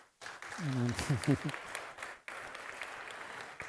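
Audience applause following a Buddhist Lojong mind-training teaching session, a steady wash of clapping that swells in and continues for several seconds, with a brief voice near the start.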